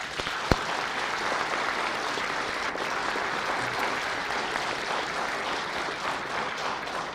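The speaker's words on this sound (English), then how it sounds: "Another last round of applause for them." Steady audience applause holds evenly for about seven seconds after a thank-you to an American Legion team, with one sharp louder clap near the start.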